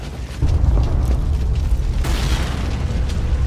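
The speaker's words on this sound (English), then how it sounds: "Explosions!" Continuous deep booming rumble with bursts of blasts layered over it in Borderlands 2 on Xbox One, loud and close, with a sharper explosion near the middle.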